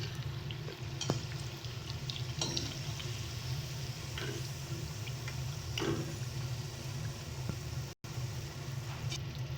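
Fenugreek leaf and cabbage fritters frying in hot oil in a pan give a steady, soft sizzle with occasional small pops and crackles throughout, with no voices.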